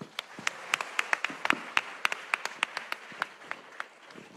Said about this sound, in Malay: Tepukan untuk Rox